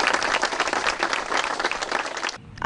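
Mourners gathered at a burial in Amazonas break into steady applause, a dense patter of many hands that runs on, then drops off abruptly near the end.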